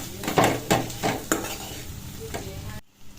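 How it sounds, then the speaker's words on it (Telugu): Spoon stirring brinjal (eggplant) fry with salt and coriander powder in a pan, giving several scraping strokes over a soft sizzle, close and fairly quiet, ending in a brief silence. "బాగా కలుపుకోవాలి."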